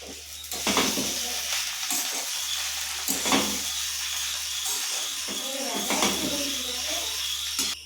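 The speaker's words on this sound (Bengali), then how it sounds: "চিড়েটা আমি ভালো করে ভেজে নেব" Flattened rice (chira) frying with onions in a pan for chirer pulao, a steady close hiss and sizzle with repeated scraping stirs throughout, no talk.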